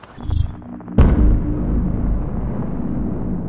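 A larger explosive charge blasts inside a balloon during a potato cannon experiment. There is a sharp, loud bang, followed by a rumbling roar that fades slowly.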